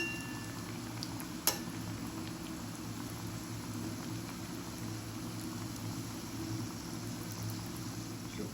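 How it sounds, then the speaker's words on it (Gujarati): Bhakharvadi fries in oil over a low flame, a soft, even bubbling hiss that stays steady throughout, with a single brief click early on and no talk. "અને ધીમા તાપે તળીશું."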